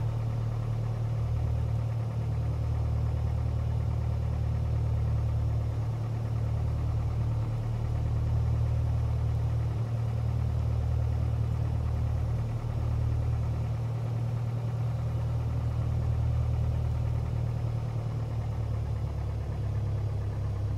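A Piper Warrior's engine idles in a VR flight simulator with a steady low drone and a faint rhythmic pulse while the plane taxis around the airport. The sound is continuous and even, with no talking.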